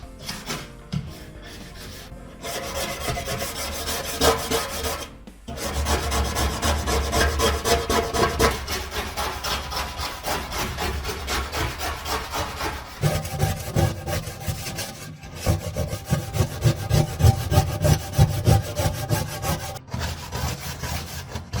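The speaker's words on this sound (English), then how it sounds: "What I always start with is a black scraper." A black scraper works chemical-loosened gunk inside an oven, giving repeated rough rasping strokes in a steady back-and-forth rhythm, close and fairly loud, broken by short pauses.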